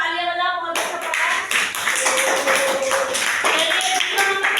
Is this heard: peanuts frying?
no